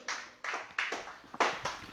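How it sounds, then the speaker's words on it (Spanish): A church congregation claps in a steady rhythm, with about five sharp, evenly spaced claps at moderate loudness and no voices over them. "Dele palmas a Cristo si puede."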